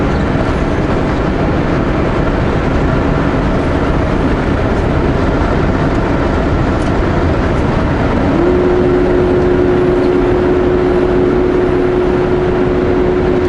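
Steady broadband engine and road roar from a car driving along a countryside road near Soap Lake in Washington, holding loud and constant, with a sustained rising tone entering about two-thirds through as it pulls through the gears.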